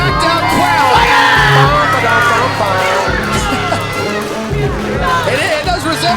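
A packed crowd at a PWF tag team title wrestling match jeers and shouts at wrestler August Fears, a loud, dense roar of booing, whoops and children's yells, with commentators talking over it.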